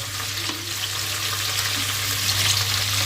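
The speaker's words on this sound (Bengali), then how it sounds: "ক্যাপসিকামটা 1 মিনিটের মতো হালকাভাবে নাড়াচাড়া করে নেব।" Capsicum sizzles and crackles steadily as it is stir-fried in a hot pan, with a constant frying hiss up close and no voices.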